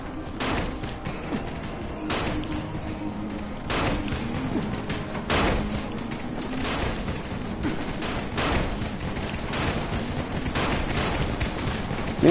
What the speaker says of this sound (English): They're gonna come to little tiny fireworks.